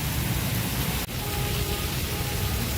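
Dense, steady hiss of heavy rain with a storm in Banaskantha pouring down without letup, broken only by a momentary dropout partway through.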